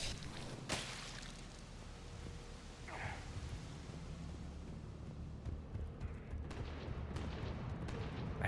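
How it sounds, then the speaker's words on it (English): Dense, continuous battle noise in Mass Effect 3 with scattered sharp bursts of gunfire and rumbling blasts, steady and loud throughout, like a game firefight. "I hear gunfire."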